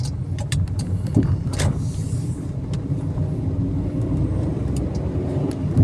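A car drives a K53 driver's licence test route in Uitenhage, its engine and road rumble steady and close throughout, with a few faint clicks and bumps over the continuous drone and no talk.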